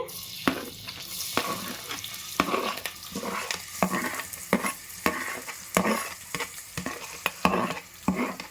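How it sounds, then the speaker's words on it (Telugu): Onions frying in oil in a home kitchen pan, a steady sizzle broken by repeated sharp stirring scrapes and clinks from a utensil, close and fairly loud with no talking. "ఉల్లిపాయలు బాగా వేగాలి"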